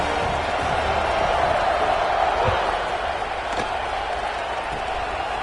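Stadium crowd in the College Football 26 video game, a broad continuous roar of fans as a kickoff approaches, steady and dense with a few sharp thuds, under faint commentary.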